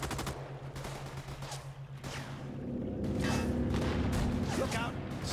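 Scattered gunfire in the World War II shooter Raid World War II, a few moderately distant shots and bursts amid battle noise, with voices talking over it.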